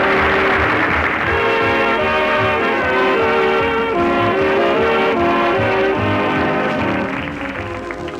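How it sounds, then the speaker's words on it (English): A loud, sustained horn with layered tones blares continuously, with rumbling underneath, then fades slightly toward the end. "Here comes the train."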